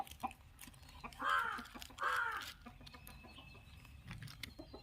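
Hen calls at an outdoor home setting: two loud, harmonic squawking clucks in quick succession near the start, then quieter scattered bird sounds and background noise.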